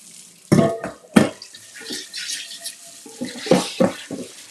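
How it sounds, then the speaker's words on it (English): Hot tap water runs while a long-handled brush scrubs and rinses seasoned cookware in a sink, giving close splashing and sloshing with a few sharper scrapes and knocks from the brush against the pan. "let's go ahead and just get this rinsed out with hot water"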